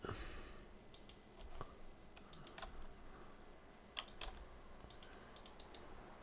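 Keystrokes on a computer keyboard during PCB design work in KiCad, a quiet series of short clicks in small irregular bursts, some taps standing out louder against a low room hum.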